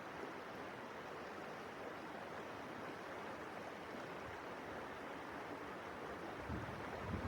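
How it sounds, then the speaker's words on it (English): The Paria River flows through a sandstone canyon in Arizona as a steady, broad wash of moving water, soft and continuous with no voices. "All right, here we are, Paria River."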